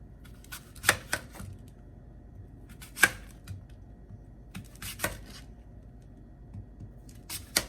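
A knife slicing Granny Smith apples, producing sparse, sharp cutting clicks and taps at uneven intervals against a quiet background.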